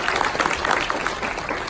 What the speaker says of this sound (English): can we please give them the attention they deserve with a huge round of applause?